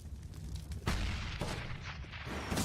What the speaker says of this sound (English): grenade damage onto Dapper